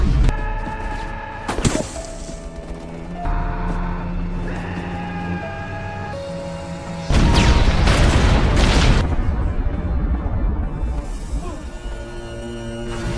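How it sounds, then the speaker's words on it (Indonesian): Heavy booming blasts and rumbling explosions from a tank cannon firing on a building, loud and close, with a dense burst of impacts in the middle amid a tense musical score. "datang tank baja Korut menggempur tentara pelajar dan menembak gedung dengan meriamnya"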